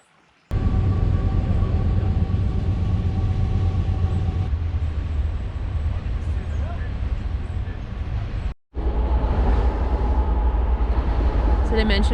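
A loud, steady train rumbles past at close range beside a riverside campsite, a continuous roar with a brief drop near the end, without speech.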